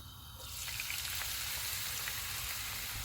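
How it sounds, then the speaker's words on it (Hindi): Onions go into hot oil and start frying for a mixed dal, a soft crackle rising quickly into a steady, close, continuous sizzle with no voices. "ऑयल गर्म हो गया, इसमें प्याज डालेंगे।"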